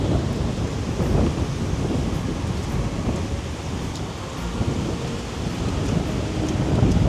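Strong coastal wind buffets a beach campsite on the ocean shore, a loud continuous low roar and rumble with gusts swelling and easing, close to the microphone and alone.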